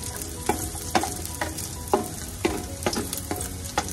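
Garlic sizzling in a pan as it browns for tinola chicken soup, a steady close fry with about eight sharp stirring scrapes spaced roughly every half second.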